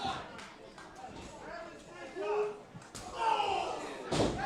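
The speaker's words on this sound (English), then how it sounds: "you can hear the thud right onto those thoracic bones of the spine." During a tag-team wrestling match, a wrestler's back slams onto the mat with a few heavy thuds and smacks from the ring, heard under a commentator's ongoing talk.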